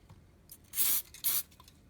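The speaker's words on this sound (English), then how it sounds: "I'm going to be using my contact adhesive and spraying it in there" Two short hissing bursts of contact adhesive sprayed from an aerosol can, close and loud, separated by a brief pause, in an otherwise quiet room.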